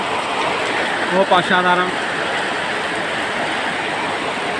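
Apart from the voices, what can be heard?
heavy midday rain in a village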